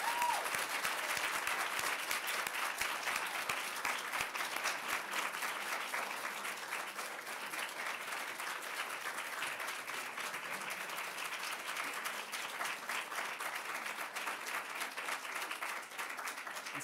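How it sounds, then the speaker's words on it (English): Steady, sustained applause from a moot court audience honouring the finalists, dense clapping holding evenly for the whole stretch with no talk over it. "If we could have a quick round of applause for our finalists."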